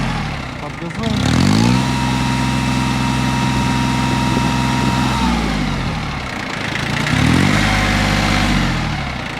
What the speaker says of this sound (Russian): Работает двигатель очень хорошо, набирает обороты четко, соответственно, держит их также четко